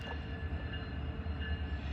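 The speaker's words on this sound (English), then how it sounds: "we've got a westbound train too" A BNSF freight train rumbles past the Amtrak station in Galesburg, Illinois, a steady close heavy roll with deep low rumble and faint metallic tones, no talk.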